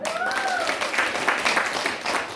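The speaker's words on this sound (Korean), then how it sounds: "박수 부탁드립니다." A lecture audience at a talk on building an energetic, healthy life breaks into applause, a brief, dense burst of clapping with a voice briefly heard over the start.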